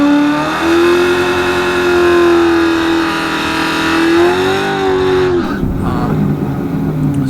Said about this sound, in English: So I do my burnout.